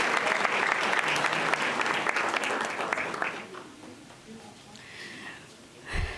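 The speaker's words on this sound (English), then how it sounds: "A round of applause for Jonah." Applause at a school board meeting honoring a student athlete, with many hands clapping loudly at first, then thinning and fading away, leaving brief scattered sounds and a short bump of noise near the end.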